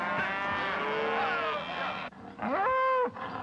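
Cattle calves bawl and moo at a high-country ranch branding, with two long, loud close calls separated by a short pause.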